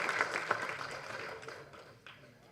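An audience at a movie event applauds, a dense patter of clapping that gradually thins and fades over a couple of seconds.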